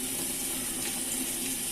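Water pours steadily into a Fujidenzo JWA8500 8.5 kg washing machine tub during its fill cycle, a close, continuous rushing hiss with no talk over it.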